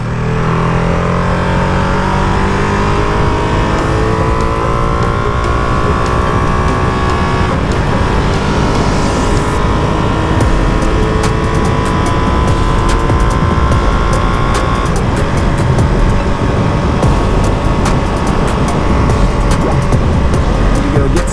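A Ducati Panigale V2 motorcycle engine runs loud and close for the whole stretch, its revs rising and falling in steady sweeps with no talk over it.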